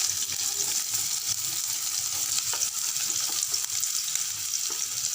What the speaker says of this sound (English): The oil is heated. I am going to put onions.